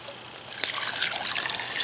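Water pouring into a container over black walnut hulls outdoors near a fire, a steady splashing trickle that builds slightly and stays close.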